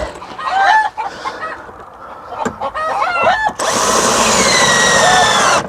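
Several Pekin bantam hens cluck and squawk agitatedly nearby, then a loud continuous mechanical whirring, like a power drill, takes over.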